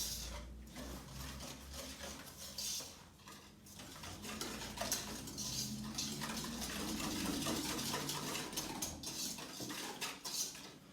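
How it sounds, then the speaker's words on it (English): A utensil stirs eggs and vegetable oil together in a dish, giving a continuous scraping and clinking that lasts throughout, fairly quiet and with no voices. "I will go ahead and stir this while we do that."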